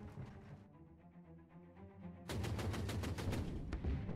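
Machine gun bunkers fire in the World War II strategy game Order of Battle: Blitzkrieg, starting as a quieter rattle and then breaking into loud, rapid repeated bursts of automatic gunfire with no talking.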